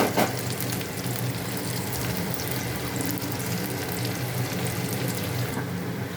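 Garlic, ginger and green chilies frying over full flame for homemade Manchurian; a loud, continuous hissing sizzle dominates throughout, with a brief sharper burst at the start.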